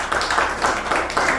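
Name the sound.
church congregation clapping to acclaim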